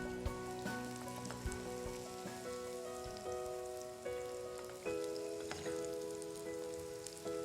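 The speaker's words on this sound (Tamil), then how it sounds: "நல்லா 2 பக்கமும் வெந்து ப்ரௌன் கலராக வர வரைக்கும் நம்ம இதை ஃப்ரை பண்ணிவிட்டு எடுத்துடலாம்" Chicken curry vada deep frying in hot oil until golden brown on both sides: a constant, even bubbling sizzle with soft crackles, steady and fairly quiet.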